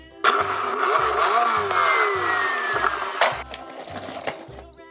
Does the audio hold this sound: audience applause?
no